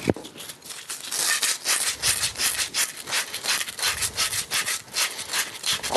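Steady scrubbing on copper pipe, cleaned by hand before tin soldering of a plumbing line, with repeated rasping strokes in a close, even rhythm and no talk.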